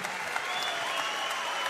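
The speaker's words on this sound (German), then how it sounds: "helfen Sie den Kämpfer in die zweite Runde mit Ihrem Applaus" Steady applause fills an MMA event hall between rounds of a heavyweight title fight, a dense, even wash of clapping from the audience that holds at the same level throughout with no voices standing out.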